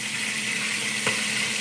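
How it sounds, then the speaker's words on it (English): Chicken and fish fry in oil with a steady, close sizzle and a short clatter partway through, with no talking. "That's the thing with frying chicken and fish."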